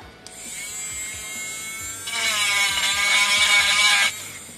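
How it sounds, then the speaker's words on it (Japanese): A cheap rotary tool whines as it grinds a plastic part on a Porsche 911 scale model car. A steady buzzing runs throughout and turns harsher and louder while the bit bites into the plastic for about two seconds, then eases off. "安物ルーターなんですけどね、はい、 これで、 削っていきたいと思います"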